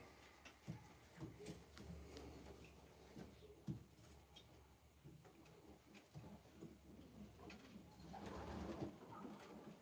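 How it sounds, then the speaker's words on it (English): Pigeons coo steadily throughout a breeding loft, a layered, continuous chorus of soft low calls with scattered wing flutters and rustles, growing a little louder toward the end. "These pigeons live here."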